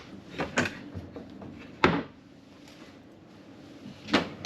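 A drawer slides and bumps shut a few times, with sharp wooden knocks spaced irregularly in a quiet room inside a Crossroads Cameo 2901 fifth-wheel trailer, close by and with no voices.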